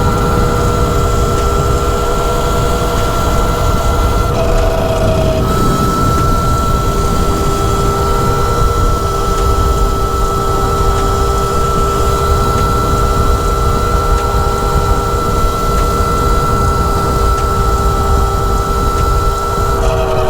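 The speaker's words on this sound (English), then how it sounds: "I'm gonna just rip it up a little bit. Full throttle." A Yozma IN10 electric motorbike at full throttle, a steady loud electric whine with strong tonal hum and heavy rushing wind noise, continuous for twenty seconds.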